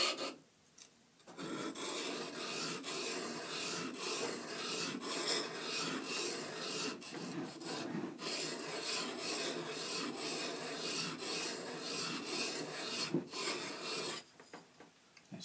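A hand plane blade is ground back and forth on a sharpening surface, giving a continuous close raspy scraping rhythm with brief pauses near the start and end.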